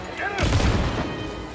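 A grenade explodes in Cyberpunk 2077 with a sudden loud boom that rolls into a long, rumbling decay, following a short tonal whine just before the blast.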